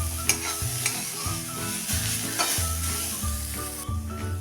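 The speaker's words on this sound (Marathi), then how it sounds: "छान असं गाजर होईपर्यंत परतून घेऊया गाजर बघा कसं छान परतून होत आलेलं आहे" Grated carrot sautés in a pan for carrot rabdi with a bright, close sizzle and repeated rhythmic stirring scrapes at roughly even intervals.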